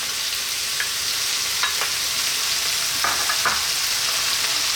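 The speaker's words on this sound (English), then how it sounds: "What we're going to do now is add in that fresh tomato." Fresh tomato hits onions frying in a pan, raising a steady, dense sizzle throughout with a few soft scraping stirs, close and continuous with no talk.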